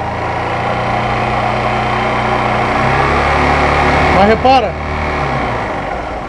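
A Honda CG 125 Fan motorcycle engine idles close by with a low, even putter, then gives a quick rev blip before dropping back, while someone talks over it.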